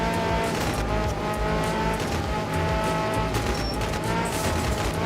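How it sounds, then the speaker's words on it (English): Rally car engine with anti-lag crackle in the video game Art of Rally, a loud continuous drone with popping bursts and some tire noise, steady throughout with no talk. "while we listen to this gorgeous anti-lag soundtrack"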